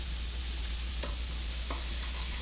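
Minced garlic sizzles in butter in a pan, a steady close frying hiss with a couple of faint stirring clicks and no talk.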